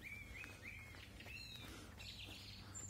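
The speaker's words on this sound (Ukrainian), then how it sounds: "Гарно пташки співають." Birds chirp and trill steadily in the distance in early spring in Truskavets, Ukraine, several short tweeting calls overlapping against a soft outdoor hiss.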